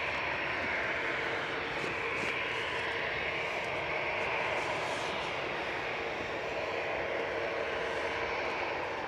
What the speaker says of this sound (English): Just touching down on 23 right is an EasyJet A321 from Lisbon with flight